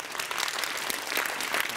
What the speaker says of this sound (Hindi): इसके कॉन्फिडेंस के लिए इसके लिए ताली बजाओ।